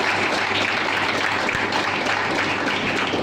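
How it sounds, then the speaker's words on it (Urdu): A church congregation applauds together in a steady, dense burst of clapping that is close and loud, with no speech over it. "جی تالیاں بجا سکتے ہیں"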